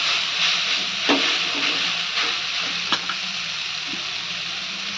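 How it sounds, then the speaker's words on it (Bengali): Water spinach (kolmi shak) sizzles and crackles as it fries in a pan, a steady close hiss broken by a few sharp spatters and stirring knocks, with no talking. "এদিকে মা তখন কলমি শাকটা ভাজছে"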